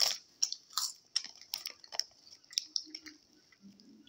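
Crunchy snack puffs being chewed close to the mic, a steady series of crisp crackly bites and munches with no talking.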